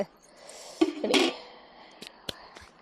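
A metal lid is set onto a cooking pot with a short clattering clank, followed by a couple of lighter metallic taps, close and alone without speech.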